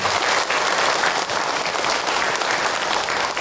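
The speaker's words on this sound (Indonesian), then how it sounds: "Tepuk tangan untuk Ahilman." An audience at an Islamic lecture breaks into dense, sustained applause, a loud even roar of many hands clapping for the whole stretch.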